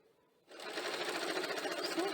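A sewing machine stitches lace onto blouse fabric: after a brief quiet start, a fast, even, close-up mechanical whirring and rattle runs steadily to the end.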